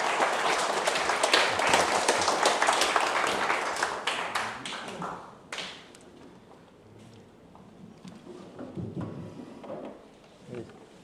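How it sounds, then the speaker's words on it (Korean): Dense audience applause greeting a lecturer at a talk on knee arthritis in old age, loud crackling claps that fade out after about five seconds, followed by quiet room noise and a voice beginning to speak. "연사님을 박수로 맞이하겠습니다"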